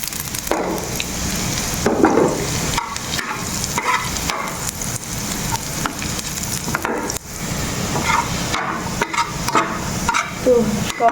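Oil crackles and sizzles in a pan throughout, with intermittent stirring clatter and short breaks in the frying noise.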